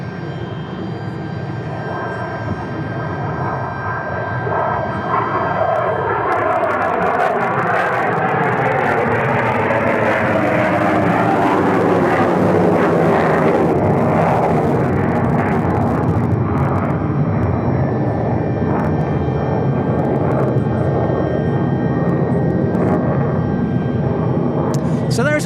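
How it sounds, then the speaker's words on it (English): An Air National Guard F-16 fighter jet takes off from Tucson International Airport, its engine roar building into a loud, sustained rumbling blast that peaks midway and stays heavy to the end. "a parallel runway to this F-16 that's taking off."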